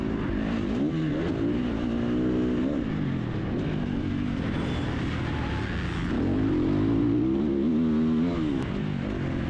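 A Triumph 250 motorcycle engine revs up and down repeatedly while the bike is ridden. The pitch rises and falls through the gears, loud and close, with no talking.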